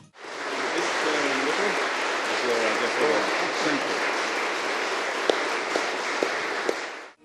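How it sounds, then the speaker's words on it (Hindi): Audience in the British Parliament applauding an address by the Indian Prime Minister, a sustained roar of clapping from a large gathering that fills the hall, with a few sharper claps near the end. "पूरा संसद भवन तालियों की गड़गड़ाहट से गूंज गया"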